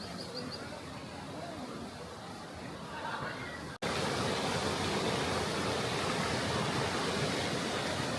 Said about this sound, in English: Such a beautiful waterfall running through this restaurant.